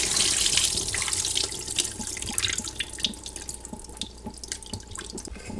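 Water poured off rinsed rice splashes and trickles steadily into a container close by, a continuous pouring with small drips and sloshes, no voices.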